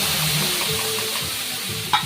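A tomato, ginger, garlic and chili paste frying with onions in a hot pan, giving a continuous loud sizzle with soft stirring scrapes and one brief clink near the end.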